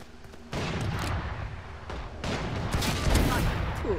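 Gunfire in the Valorant video game, a dense burst of rapid shots with sharp cracks, loud and close, with voices talking over it.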